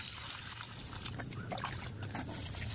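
Water trickles and splashes in an irregular stream while watering plants, with soft dribbling bursts over a constant low background noise.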